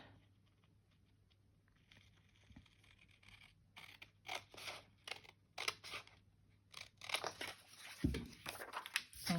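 Scissors snip through a 12x12 paper offcut scrap in a quiet room, a run of close, crisp cuts and crinkles growing busier toward the end.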